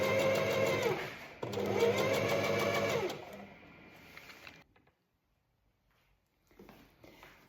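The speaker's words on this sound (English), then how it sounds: "I'm just going to do a straight stitch and sew on a matching bias binding onto our little layered top" A domestic sewing machine runs a straight stitch to attach matching bias binding to a layered top, whirring steadily in two close bursts with a brief pause between, then slowing and stopping into near silence.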